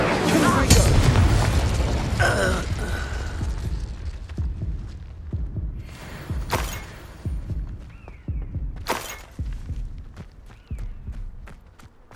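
An Incendio fire spell from Hogwarts Legacy erupts in several heavy, booming whooshes of flame, loud and close, separated by quieter stretches of rumbling game ambience.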